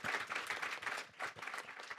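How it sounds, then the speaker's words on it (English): Conference attendees at an opening plenary give the panelists a round of applause, a brief, fairly faint burst of many hands clapping in a rapid uneven patter with a slight dip midway. "Let's give a round of applause for the panelists."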